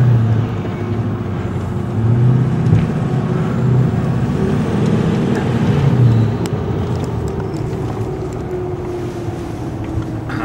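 Deep, steady drone from a large Power Wagon truck on the move, heavy wind buffeting the microphone and swelling partway through, with no one talking.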